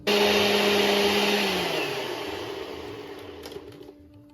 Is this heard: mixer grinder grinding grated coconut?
yes